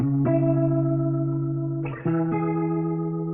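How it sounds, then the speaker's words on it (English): Guitar run through a heavy delay effect in a pop mix, sustained chorded tones smearing and repeating, with a sharp new strum about halfway through, loud and close with no talking. "So that was a guitar with a crazy delay on it."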